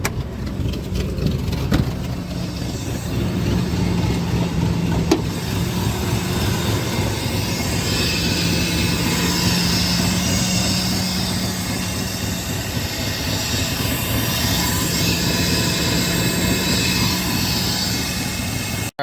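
A 2000 Ford F150 engine idles rough in park, a loud, steady chugging drone with a low hum that runs close and unbroken for the whole stretch, with no talking.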